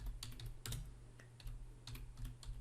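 Quiet clicking of a computer keyboard as a question is typed into an online quiz form, irregular bursts of keystrokes with short pauses, close and soft, no voices.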